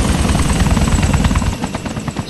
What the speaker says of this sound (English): So now that helicopter is unfolded and ready to go.